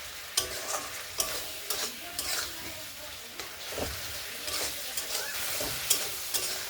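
Pineapple pieces fry in a pan with melting jaggery and sugar, giving a steady close sizzle broken by repeated scraping stirs and clicks of a spoon against the pan.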